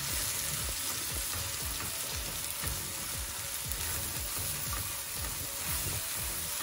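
Chukka koora (sorrel leaves) cooking in oil in a pan on the stove, giving a steady, loud sizzle with faint stirring scrapes throughout.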